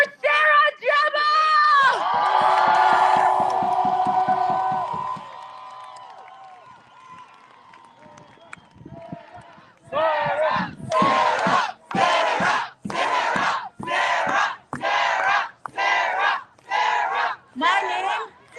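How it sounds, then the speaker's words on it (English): A large protest rally crowd in Ottawa cheers and shouts in a long roar, then falls into loud rhythmic chanting in steady repeated bursts, with an amplified voice over the noise. "Another round of applause for Sarah Gemma!"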